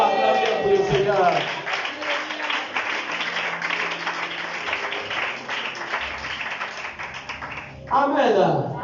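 A church congregation applauding for the Lord during a French-language sermon, steady dense clapping that fills the room for several seconds and comes in over the pastor's voice, with cheering voices at the start and end.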